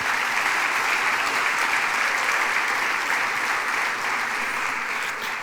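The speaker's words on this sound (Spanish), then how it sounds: "den un aplauso al Señor por eso" A church congregation bursts into sustained applause during a sermon, dense clapping from many hands filling the room at a steady loud level before easing slightly at the end.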